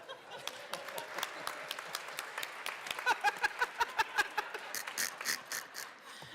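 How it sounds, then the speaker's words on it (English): Round of applause in the Colorado House legislative chamber during a recess, a scattered wash of clapping that grows into a denser, steady burst midway before thinning out. "Let's take a recess for a round of applause."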